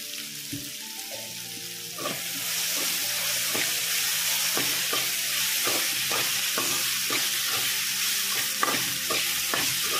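Ginger garlic paste frying in a pan while being stirred, a quiet start and then a loud steady sizzle from about two seconds, broken by repeated rhythmic clicks of the spoon against the pan.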